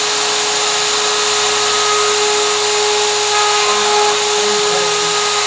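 A rose engine lathe works a piece of black-lacquered maple with a 1/8-inch single-flute CNC router cutter, a loud steady mechanical whir with a constant motor tone and faint cutting scratches throughout.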